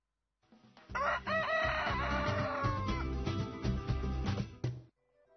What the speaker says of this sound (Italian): il canto del gallo alla zanzega